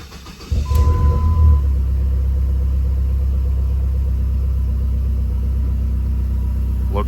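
A 2005 Dodge SRT-4 engine starts with a brief crank, then settles into a loud, steady idle rumble as it warms up, close and continuous with no talking.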